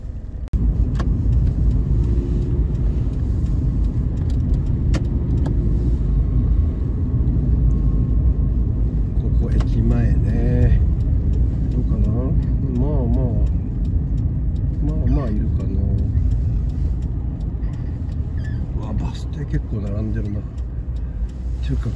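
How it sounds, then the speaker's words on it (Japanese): Car traffic passes near Hakodate Station in Hokkaido, Japan, a steady close rumble of engines and tires on the road, with a person talking over it throughout. "車も多いね。"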